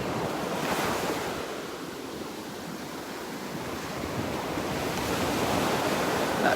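Waves break continuously on Vanderbilt Beach in Florida, a dense roaring wash with gentle swells in loudness, accompanied by a light breeze rumbling against the microphone.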